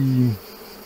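A single honeybee from a hive being readied for transhumance gives a close, brief buzz that drops away within half a second, leaving quiet background.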